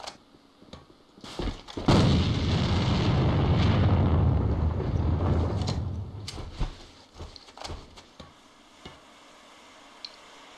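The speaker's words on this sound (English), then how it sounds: "Бросаю гранату!" A grenade blast in the shooter game Alliance of Valiant Arms: a sharp crack followed by a loud, rumbling roar that lasts several seconds, with scattered sharp gunshots and clicks before and after.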